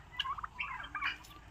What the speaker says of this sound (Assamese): আৰু এইবিলাক চীনা চৰাইখিনি